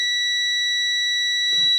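A multimeter in continuity mode tests a phone mainboard's voltage line to the power management unit, giving a steady, clear electronic beep that holds for over a second before a brief rustle at the end.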